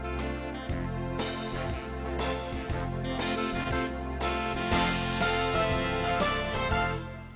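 Band accompaniment on a keyboard arranger, switched to its alter style part, with a steady full band groove and sustained chords. Fairly quiet, continuous, and without talking.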